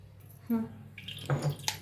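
Tap water runs over coriander in a sieve above a pot, making short splashing and dripping bursts close by.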